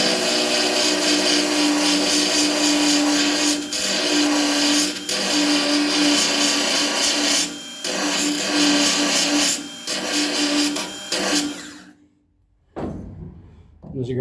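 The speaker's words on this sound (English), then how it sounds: "as you grind all those down smooth" A grinding tool smooths down metal on a Porsche 914 during sandblasting prep, a steady loud whirring buzz that runs with brief dips before cutting out near the end.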